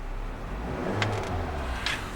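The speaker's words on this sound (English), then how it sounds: "I'm going to rev the engine" A silver 2013 Hyundai Tucson Limited SUV idles with a low hum, and the engine is revved in a couple of brief swells over the quiet running sound.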